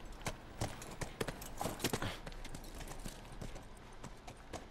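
Horse hooves clip-clopping in The Last of Us, a steady walking rhythm of distinct hoof strikes, fairly close and moderately quiet, with no voices over them.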